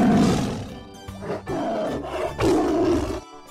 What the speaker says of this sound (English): Look at this beautiful predator. This is a tiger.